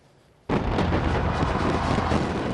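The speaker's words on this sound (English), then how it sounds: "in Dubai, the celebration was marked with one of the most elaborate fireworks displays in history" Massive New Year's Eve fireworks display in Dubai, bursting in with a sudden onset into a continuous, dense roar of overlapping explosions and crackles, loud and sustained.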